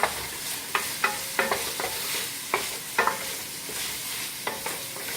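Meat browning with habanero sauce in a pan over medium-high heat for a spaghetti dinner, stirred with regular spatula scrapes and knocks over a continuous loud sizzle.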